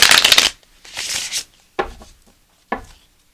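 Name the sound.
tarot cards being shuffled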